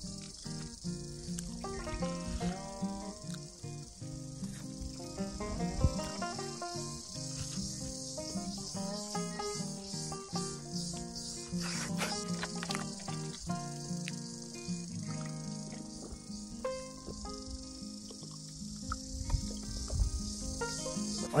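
Crickets chirp continuously from the ground while crickets are dug up, a dense high steady trill at close range with scattered ticks and knocks mixed in.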